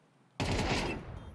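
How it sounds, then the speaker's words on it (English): Wallbang gunfire tearing through a wall in Counter-Strike, with a grenade thrown over the top: silence, then a sudden loud, dense burst of rapid shots that rolls on for about a second before fading slightly. "Oh, the wallbang's coming in, the nade over the top."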